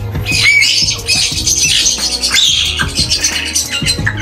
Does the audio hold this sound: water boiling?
no